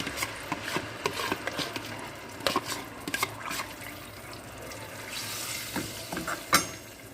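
Spices with carom seeds, cumin and a prepared puree are stirred and fried in oil in a pan. A steady close sizzle runs throughout, with repeated scraping and clacking of the stirring spoon.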